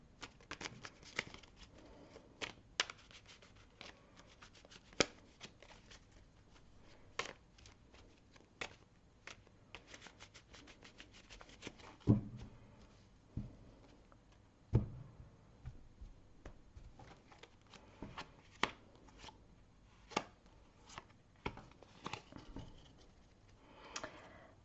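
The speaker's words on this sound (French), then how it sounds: "je vais tirer également les 3 cartes." Tarot cards being shuffled and drawn by hand, giving soft, crisp riffles and scattered light taps and flicks throughout. The sound is quiet and close, with no voices.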